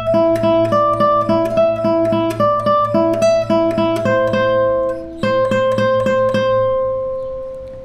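An acoustic guitar plays a passage of a song, with clear plucked notes over sustained bass tones in a steady pulse that slows and rings out at the end, close and solo.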